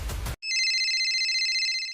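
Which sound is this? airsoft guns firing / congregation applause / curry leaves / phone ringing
phone ringing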